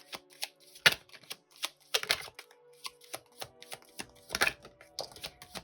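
Tarot cards being shuffled by hand during a reading, a run of quick papery riffles and soft slaps in uneven bursts, close and fairly quiet with no talking.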